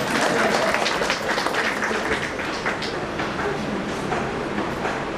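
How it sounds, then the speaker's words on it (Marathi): Sustained audience applause at a Marathi book launch ceremony, a dense, even patter of many hands clapping throughout with no pauses, moderately loud and fairly close. "त्यांना आपण जोरदार टाळ्या वाजवल्या पाहिजे."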